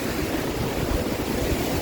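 Steady, dense rush of a waterfall close by on the trail to Hemkund Sahib, a continuous roaring wash with no pauses and no voices.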